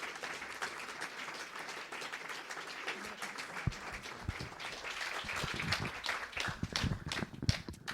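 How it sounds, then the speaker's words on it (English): Audience applause for the speakers at a panel event on Palestine, a steady patter of many hands clapping that swells slightly toward the end, with sharper individual claps standing out near the close. "give a big round of applause to our speakers today"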